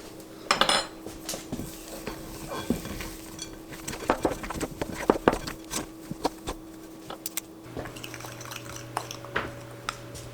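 Chopped pecans being mixed into eggnog snickerdoodle cookie dough in a bowl, with repeated utensil clinks, scrapes and clatter against the dish over a steady low hum, no talking.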